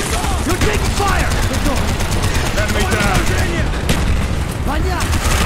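Rapid automatic gunfire in the Call of Duty Black Ops rebirth mission, loud and sustained with overlapping bursts and booms, while voices shout over the battle.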